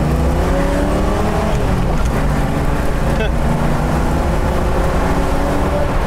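A 1986 Ford Mustang LX 5.0 pulls hard in first gear, its V8 roaring loud and close with a steady, continuous engine note climbing in pitch, while a voice talks briefly over it.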